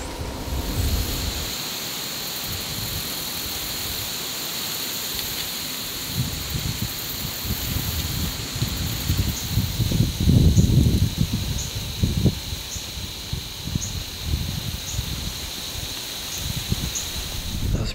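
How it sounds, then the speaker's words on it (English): Strong wind sweeping through trees during a deer hunt, leaves rustling in gusts that build and swell midway and then ease to a steady hiss, with no speech. "It was super windy and the trees were just swaying everywhere"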